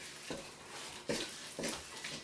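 Cream cheese ball mixture for muscadine balls is stirred in a bowl, three soft scraping strokes at a slow, even pace over a faint background hiss.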